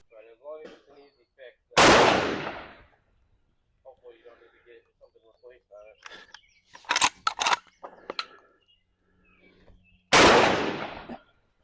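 Two loud, close blasts from a Winchester 1887 12 gauge lever-action shotgun, the second about eight seconds after the first, with speech before the first shot and handling noises between them.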